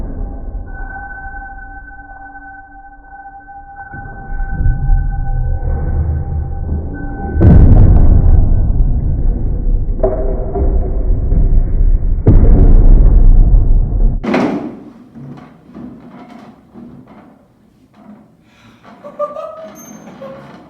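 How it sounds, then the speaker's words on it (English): A homemade wooden trebuchet fires during a weight test, giving a heavy rumbling release and thud followed by a sharp crack, then quieter rattling and settling noises as the arm comes to rest. "Now that we know our trebuchet can fire without falling apart"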